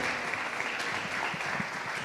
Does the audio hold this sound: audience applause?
yes